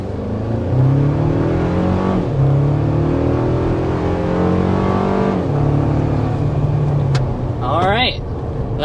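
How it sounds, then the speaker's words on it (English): A 2024 Toyota Tacoma TRD Sport with a 2.4-liter turbocharged four-cylinder accelerating hard, engine note climbing steadily through several gear shifts, loud and heard from inside, with a brief high whistle near the end. "So let's start with the hard acceleration."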